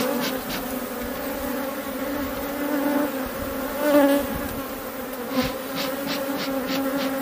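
Honeybees buzz close by as a hive is opened to make an artificial swarm. The steady, many-toned hum stays continuous, with occasional louder individual bees passing near.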